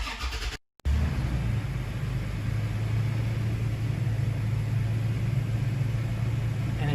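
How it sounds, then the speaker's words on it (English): A 2016 or newer Toyota Tacoma engine cranks after a brief silence and then settles into a steady, loud, low idle rumble that continues alone. "now you can start your vehicle"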